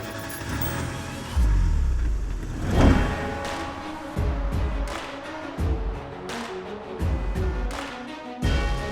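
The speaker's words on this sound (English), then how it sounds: "I'm gonna hop in our Sprinter van. We're gonna cruise down to California" A Sprinter van rolls along a road, its engine and road noise rising and falling through gear changes, with a run of sharp bumps and clunks toward the end, heard from inside at moderate volume.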